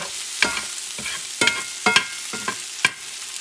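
Pork ingredients fry in a pan for pernil in red wine while a utensil stirs briskly, giving about half a dozen sharp scraping strokes over a soft continuous sizzle, close up and without talk.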